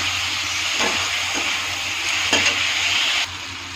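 Chili and spices fry in a pan for egg bhaji while being stirred, giving a constant close hiss broken by a few brief scraping stirs.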